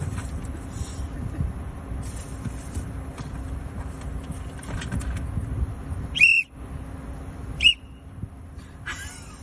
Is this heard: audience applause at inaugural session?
no